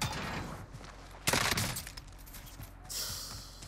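Gunfire in the shooter Modern Warfare: a loud close burst of shots cracks out in the middle, set against rough game noise and a hiss of effects, with short sharp reports around it.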